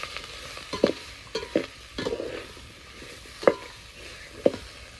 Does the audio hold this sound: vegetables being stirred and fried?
yes